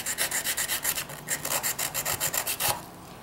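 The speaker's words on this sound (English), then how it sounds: "I sand and sand." Steady back-and-forth rasping of sandpaper on wood, close and rhythmic, about a dozen strokes before it stops.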